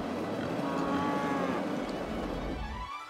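Cattle mooing inside the city-building game Cities: Skylines, a drawn-out bovine low over steady farm ambience, fairly close and loud, trailing off near the end.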